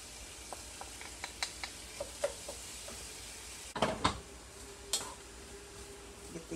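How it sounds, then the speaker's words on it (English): Onions and garlic sauté in an Instant Pot, with a soft, low sizzle under a series of light, regular stirring taps and a brief cluster of louder scraping clatter midway. "I'm going to add my onions and get them sauteing"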